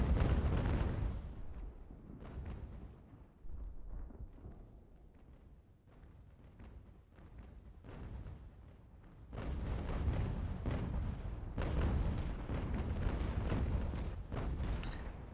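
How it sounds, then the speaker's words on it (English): Cannons fire during a video game battle set in the American Revolution, heard as a run of deep booming blasts that swell from moderate at the start to a dense, loud barrage toward the end. "Oh, the cannons are actually firing"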